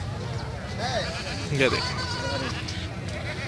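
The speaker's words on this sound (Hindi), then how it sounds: "उसके अलावा जी ये भी बकरी हैं" Desi goats, including makhi cheeni and beetal breeds, at the Shahpur Kanjra livestock market in Lahore give a couple of short bleats amid crowd murmur while someone talks nearby.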